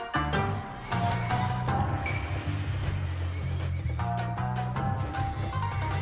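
Horses in Skyrim neigh and whinny repeatedly over a steady background score, with loud, close calls and some hoof clatter, and no talk.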